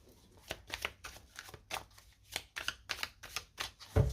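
Tarot cards are shuffled by hand in about a dozen quick, crisp riffling bursts at a steady rhythm. The sound is close and fairly soft, ending with a firmer tap as the deck is cut.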